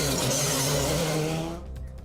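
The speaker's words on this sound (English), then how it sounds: "Dunoon echoes to the sound of rally cars" Rally cars race at the Argyll Stages in Dunoon, with a loud, close engine roar and tire noise sweeping past before fading quickly.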